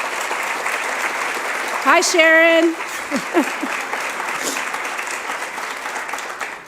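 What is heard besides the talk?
audience applause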